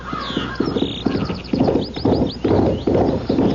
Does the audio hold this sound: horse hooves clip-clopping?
yes